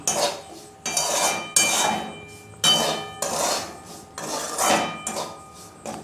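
Suji upma is stirred in a pan, a series of distinct scraping and clattering strokes at roughly even intervals, close and moderately loud.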